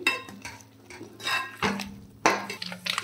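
Prawn pickle frying in hot oil in a pan, stirred with a utensil, giving scattered scrapes and clinks against the metal at an irregular rhythm over a low sizzle, close and moderately quiet.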